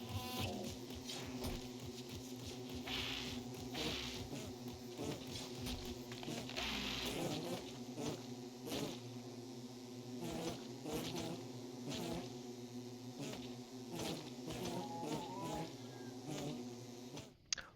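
Bees buzz continuously in the video game Don't Starve Together, a dense, close insect drone with small fluctuations and occasional game clicks on top.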